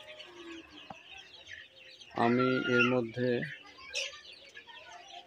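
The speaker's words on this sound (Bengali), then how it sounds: "আশা করি দেখতে পাচ্ছেন মুরগিগুলো অনেক সুস্থ এবং সবল আছে" Young broiler chickens, about 29 days old, on a poultry farm cluck in a loud burst of several calls in the middle, with fainter chirps and rustling around it and someone speaking briefly.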